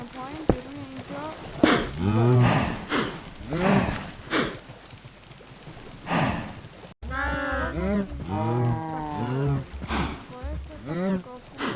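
Cows in a farm video game moo several times, drawn-out calls repeating over a steady background, louder and more frequent toward the end, with a person talking over them.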